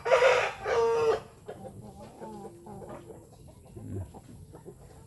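A rooster crows loudly up close at the start, followed by softer chicken clucks and scattered farmyard sounds from free-range chickens.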